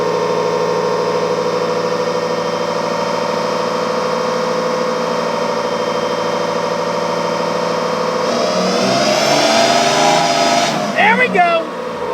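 A fifth-generation Cummins diesel truck engine with a Tater Built turbo, tuned to about 800 horsepower, drones steadily and loudly, then revs up sharply under hard acceleration before cutting off abruptly near the end.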